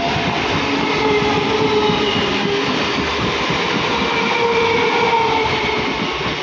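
A Down Gede local train passes close by near Ranaghat, a loud, continuous rumble of wheels and carriages with faint squealing and clatter throughout.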